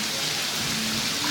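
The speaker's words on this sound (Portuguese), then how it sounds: "Olha a chuva" Steady rain falls as a dense, even hiss with no breaks, close and fairly loud throughout.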